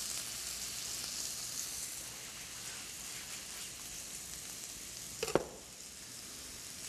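Onion sizzling in melted butter in a pan, a steady hiss of frying that runs throughout, with a brief clatter of stirring near the end.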